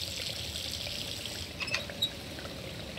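Water pours and trickles steadily in the jungle island puzzle area of the game Riven, a continuous hiss-like stream with a few brief splashy accents near the end, no voices.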